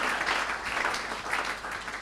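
A church congregation applauds during worship in acclamation of Jesus, with steady, dense clapping that holds at an even level throughout and no voices standing out.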